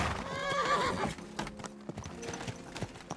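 A horse neighing and galloping in Kingdom Come Deliverance 2, a shrill whinny up front followed by a patter of hoofbeats, moderately close.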